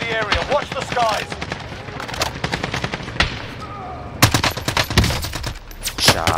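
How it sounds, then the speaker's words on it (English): Rapid bursts of automatic gunfire and single shots in a shooter video game, loud and close, coming in clustered volleys with short pauses between them. "Shots. Under fire."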